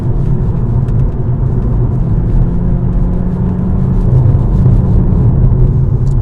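A car engine pulls in third gear out of a downhill corner, a steady loud low rumble and drone heard from inside the cabin, rising slightly as it accelerates, with no talk.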